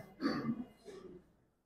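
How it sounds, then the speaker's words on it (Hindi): A single throat clear or short cough from someone near the mic, a rough burst followed by a softer second push that fades out. "खांसी मत करो"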